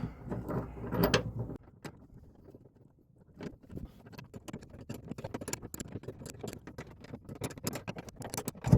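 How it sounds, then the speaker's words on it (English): Screw being tightened on a side-wall tie-down anchor in a Chevy or GMC truck bed, with a brief loud clunk, a pause, then a run of quick close ratcheting clicks, with no talking. "you can turn this screw and pull it out and it will slot in these slots behind it, and then you can tighten this screw up"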